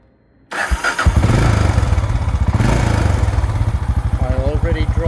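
A warm Honda XBR500 single-cylinder motorcycle cranks and fires after a brief silence, then settles into a loud, close, steady thumping idle.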